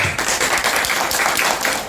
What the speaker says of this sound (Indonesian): silakan tepuk tangan untuk kelompok ini